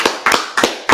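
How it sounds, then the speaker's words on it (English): Four sharp, separate claps in a second, loud and close, evenly spaced and with nothing else around them, at a church sermon. "I think we're going to clap"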